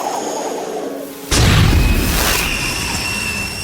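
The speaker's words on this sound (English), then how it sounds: "For instance, a force missile." A force missile one-shot from Syrinscape, a tabletop RPG sound effect, with a quiet hum that suddenly erupts into a loud magical boom and then trails off into a shimmering, ringing decay.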